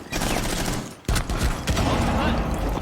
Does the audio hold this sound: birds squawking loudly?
no